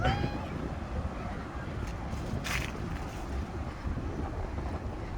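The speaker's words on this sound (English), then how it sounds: "It's nice and windy." Strong wind buffets the microphone in a continuous low rumble at the Namukulu boat ramp, with brief higher gusts and faint distant sounds behind it.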